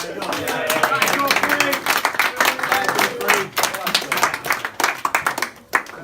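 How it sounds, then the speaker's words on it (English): An audience claps during a speech at a cricket club function, scattered hand claps rising into brief applause, with murmuring and voices in the room between the claps. "Go on, clap it."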